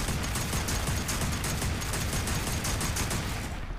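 Sustained rapid-fire gunfire from a Fallout 76 weapon fired without reloading, a dense continuous burst of shots at steady high volume for the full stretch with no pauses.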